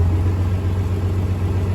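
A tractor engine runs steadily at low, rumbling idle, loud and close, with a constant throb and no clear rise in pitch across the short stretch.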